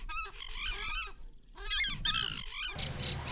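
Wetland birds calling in the Iberá marshes of Argentina: loud, nasal, goose-like honking calls in repeated bursts, close and overlapping, with short gaps between the calls and a rougher burst at the end.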